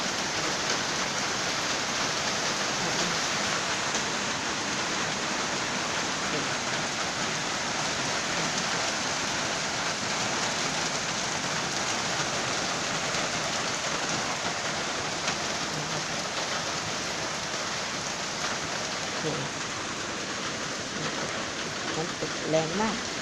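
Rain falls steadily and evenly for a long stretch, a dense, unbroken hiss that holds the same level throughout with no clear breaks.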